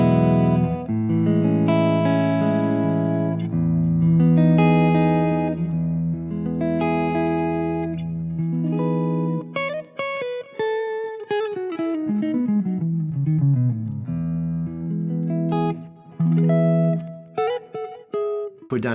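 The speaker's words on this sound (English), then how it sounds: "I'm starting with the neck pickup with the volume and tone on 10, and I've got a fairly warm but lush kind of clean sound" Clean electric guitar through the neck pickup of a Fibenare Basic Jazz, volume and tone full up, warm and lush: sustained chords followed by single-note runs and descending lines, close and steady, with a touch of reverb.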